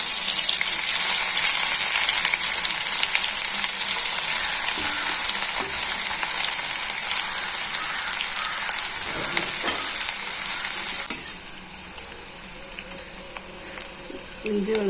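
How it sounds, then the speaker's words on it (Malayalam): Crushed ginger, garlic and fennel seeds fry in hot oil, giving a steady, bright sizzle close by with occasional stirring scrapes. The sizzle drops a little in intensity partway through. "ചൂടായി വന്നിട്ട് ഇതിലേക്ക് നമുക്ക് ഇഞ്ചി, വെളുത്തുള്ളി, പെരിഞ്ചീരകം ചതച്ചത് ചേർത്ത് കൊടുക്കാം"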